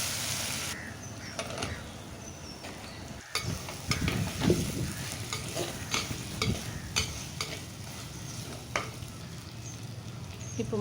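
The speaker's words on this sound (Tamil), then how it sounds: "முருங்கைக்காய் போட்டு கொஞ்சம் நேரம் எண்ணெயில் வதக்கணும்" Drumstick pods for a Tamil-style clay-pot mutton curry sautéing in hot oil, steady sizzle with scraping stirs and clinks of a spoon against the pan, fairly close and moderate in level.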